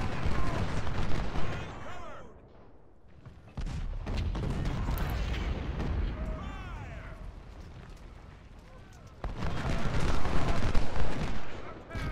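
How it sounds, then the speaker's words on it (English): Cannon artillery bombarding during a Gettysburg battle in Ultimate General: Civil War, with repeated booming blasts and sustained rumbling gunfire of varying loudness, some quieter stretches between heavy bursts. "the 2 fresh mid-range cannons in the north will spend the entire phase bombarding whatever they see"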